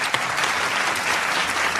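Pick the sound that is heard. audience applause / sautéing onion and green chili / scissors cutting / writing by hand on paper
audience applause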